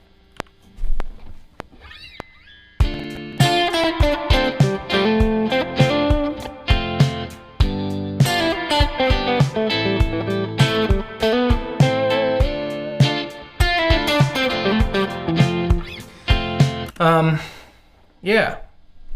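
Electric guitar through an amp with cranked gain distortion and a little reverb, played loosely in choppy, bending phrases that start and stop over about twenty seconds, loud and close.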